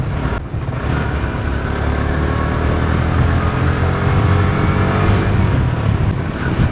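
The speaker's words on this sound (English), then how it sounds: "I'm going for a morning ride with this R15 version 3" Yamaha R15 version 3 motorcycle engine on a morning ride, a steady loud drone with rising revs and continuous rumble throughout, no talking.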